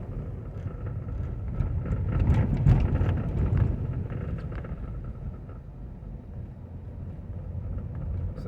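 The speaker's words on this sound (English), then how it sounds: "Like right now, I'm driving over a bridge." A car creeps slowly across a bridge on a snowy Alabama road, giving a low, steady interior rumble with faint wind and road noise and a slight swell midway.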